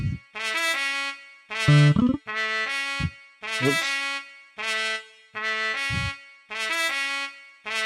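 Synthesized trumpet brass line from a Cuba instrument's trumpet setting in a basic reggae track, playing short repeated stabbed phrases in a steady rhythm, close and fairly loud, with a brief spoken word partway through.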